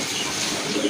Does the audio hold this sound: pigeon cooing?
yes